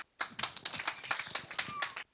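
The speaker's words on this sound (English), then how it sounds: "A round of applause once more for him" A small audience at a book review event gives a short, lively round of applause, dense close hand claps for about two seconds before stopping.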